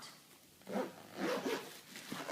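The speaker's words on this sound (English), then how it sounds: "I'm going to close the top, and we can zip it on around." A zipper is pulled around the top of a packed carry-on suitcase, giving a quiet, close rasping run in two or three drawn strokes with no talking.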